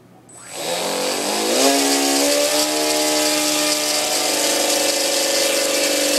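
A Turnigy 2730-1500 electric motor on a thrust test stand spins up from quiet to full throttle, its whine climbing in pitch, then holding a loud, steady, close high-pitched buzz.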